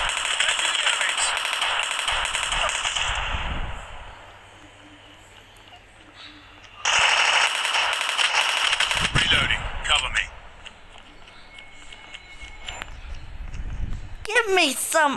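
Gunfire in a Call of Duty Mobile battle royale match comes in loud crackling bursts, one early and another midway, with voices talking over the shooting.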